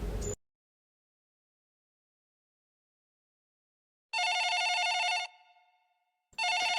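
A telephone rings in two loud electronic bursts. The first lasts about a second and trails off, and a second ring starts after a pause, both alone against silence.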